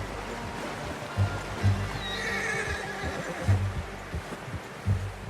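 A horse in the Red Dead Redemption 2 video game whinnies once, then hooves clip-clop steadily nearby over a low rushing, stream-like outdoor ambience.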